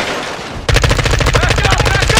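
Gunfire in the video game Call of Duty Modern Warfare II: after a brief quieter lead-in, a loud, close automatic burst erupts and continues as a rapid, even rattle of shots to the end.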